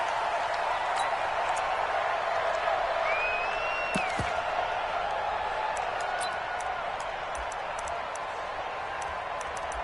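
A stadium crowd in the video game Madden, at a Cincinnati Bengals versus Chicago Bears game, keeps up a steady, wide murmuring roar, with a few faint whistles and claps poking out above the constant wash of noise.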